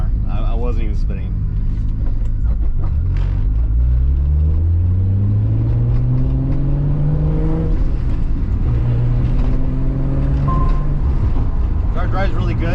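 A 700 hp 2JZ-powered JDM Toyota Supra drives at moderate speed, its engine drone rising and falling through gear changes as a steady rumble throughout, with a voice talking over it.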